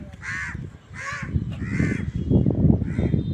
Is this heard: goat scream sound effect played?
no